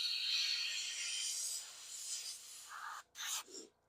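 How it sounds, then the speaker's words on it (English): Aerosol spray paint hissing onto the spine of miniature wings, a steady airy spray lasting about three seconds, then short bursts with brief pauses, close and fairly quiet with no talk. "Spraying down the spine of the wings."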